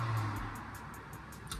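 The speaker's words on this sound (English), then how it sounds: "So if you do hear noise, it's the cars" Cars passing outside an open window, a steady low road rumble with a faint rising whoosh near the end, distant and moderate in level.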